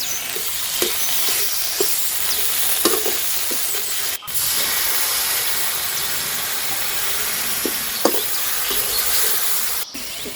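Green chilli and ginger paste fry in a pan with a steady close sizzle, broken by light stirring clinks and scrapes throughout.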